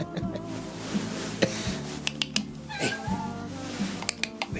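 A family cat meows repeatedly in drawn-out, tonal cries, fairly close, with a few faint ticks and clicks around them and no speech.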